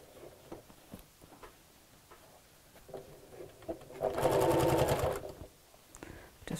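A sewing machine runs a quarter-inch seam around a fabric dust cover, heard as a soft, rapid stitching burst lasting about a second amid quiet room sound and brief handling noise.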